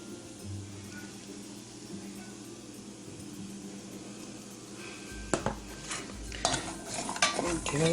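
Utensil stirring ground cinnamon into a pan, a few scraping clinks and soft clatters growing louder near the end over a low steady kitchen hum.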